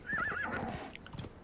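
A horse in the game Conan Exiles gives a loud, wavering whinny close by, then its hooves clop a few times as the call fades.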